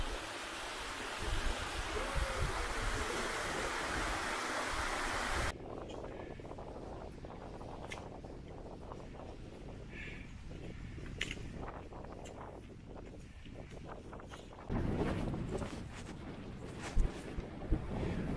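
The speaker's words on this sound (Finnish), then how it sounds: "Todella kova tuuli täällä Lumipäällä." Steady roaring wind on an open fell top buffets the microphone, dropping briefly to a lower rush before surging loud again near the end; no voices.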